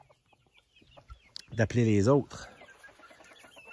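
Young hens and little roosters cluck in a short, loud burst of calls rising over quiet background scratching, with a person speaking briefly nearby.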